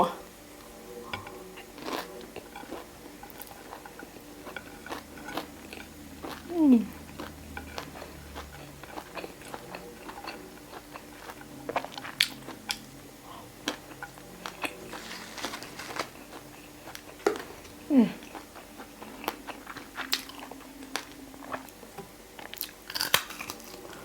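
Someone eats crispy pork belly with Thai fermented fish sauce alone at home, giving close, irregular crunchy bites and chewing spread over the whole stretch, with occasional soft handling sounds.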